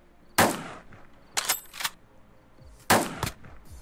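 Gunshots ring out in the Roblox zombie game Quarantine Z, three sharp loud bursts spaced about a second apart, each followed by a short tail, with quieter game ambience in the gaps.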